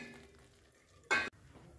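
A spoon makes a single short scraping stir through pea curry with yogurt in a pan, brief and fairly close, then the kitchen goes quiet again.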